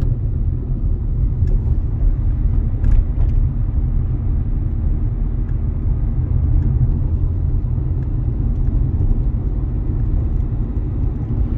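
A car engine during a driving-exam route lesson, a steady low drone with changing load as the driver works the clutch, shifts gears and eases on the gas, heard from inside the cabin with no talk.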